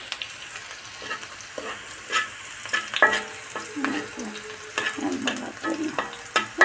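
Potatoes with dal sizzle in a pan while a spoon stirs and scrapes, steady frying crackle under irregular clinks and scraping strokes, close up.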